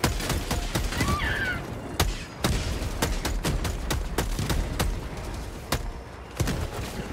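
Gunfire in the video game Helldivers 2 crackles in rapid irregular bursts, with loud sharp shots over a dense rumble of combat, close and continuous.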